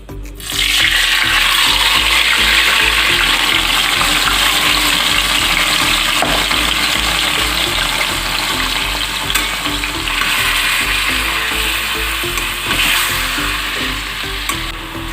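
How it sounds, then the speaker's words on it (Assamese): Loud, steady sizzling of marinated chicken frying in hot oil on high flame, a continuous close hiss that holds throughout with little variation. "হাই ফ্লেমত চিকেনখিনি ভাজি ল'ম 5 মিনিট সময়"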